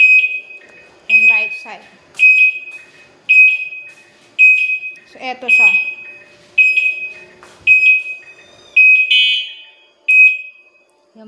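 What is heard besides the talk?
Super Uno turn signal light buzzer beeping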